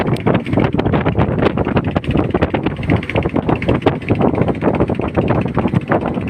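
Strong sea wind buffets a boat heading back to shore, a loud continuous roaring rush with constant gusty fluttering and no talk.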